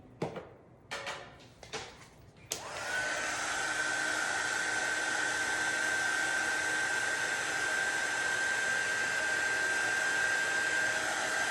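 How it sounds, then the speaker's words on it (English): A heat gun is switched on after a few handling clicks and knocks, then blows hot air in a loud, steady whirring hiss with a fixed whine that continues unbroken to the end, with no speech. "I'm gonna take my heat gun"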